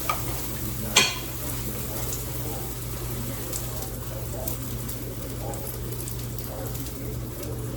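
A cheese-filled sandwich sizzles steadily in a frying pan while being pressed down, a constant close crackle with one sharp clatter near the start and no talking.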